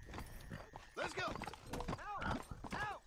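Horse hooves clip-clop in a video game, Red Dead style riding, with a steady trotting rhythm under ongoing talk and occasional whinnies.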